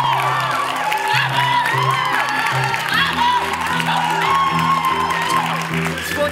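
A theatre audience applauds and cheers steadily throughout, dense clapping with whoops layered over sustained tones, no pauses.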